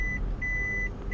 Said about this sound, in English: Oh, the beeping's driving me crazy too.